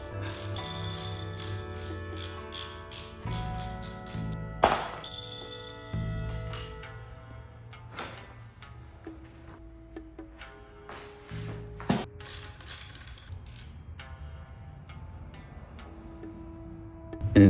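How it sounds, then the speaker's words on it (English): Nut bolts being unscrewed to take the wheels off a road bike during a home restoration, with a run of ratchet clicks and metal tool clatter, a few sharper knocks standing out, close and fairly quiet throughout. "I've unscrewed the nut bolts and took the wheels off"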